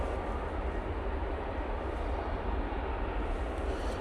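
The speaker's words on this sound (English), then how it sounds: "As we have that E175 make its way out to us." An Embraer E175 airliner taxiing at Manchester Airport gives off a steady, moderate jet engine rumble with a broad airy hiss on top, unchanging over a few seconds with no voices.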